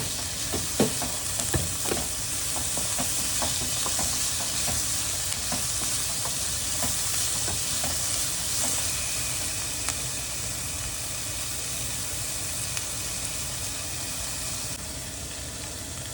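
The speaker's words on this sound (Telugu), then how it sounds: "పోపు రెడీ అయిపోయిందండి" Tempering of spices sizzling in hot oil in a pan for homemade curd rice, a steady close frying hiss with occasional small pops and stirring clicks, no talking.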